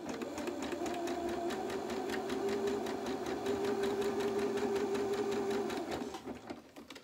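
A sewing machine runs steadily for about six seconds, stitching fabric for doll-sized French knickers, then slows and stops. It is close and even, with a constant whirring hum and no talking.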